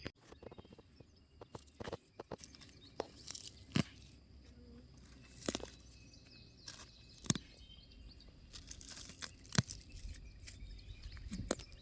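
Weeds being pulled by hand from a rain-soaked home garden, with a series of quiet, irregular tearing and rustling snaps of roots and leaves, close by and fairly soft, with pauses between pulls.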